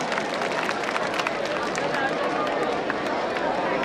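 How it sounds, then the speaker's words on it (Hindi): An audience at a Ganesh festival bhajan evening gives sustained applause, a steady wash of clapping from a large crowd with murmured voices mixed in, holding at an even level throughout. "एक बार तालियां बजा दीजिए आप सबके लिए।"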